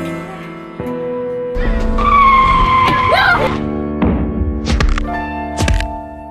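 A bus brakes hard with squealing, skidding tires and heavy thumps as things shift inside, loud and close over a running engine drone.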